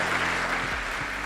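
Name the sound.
applause for Christine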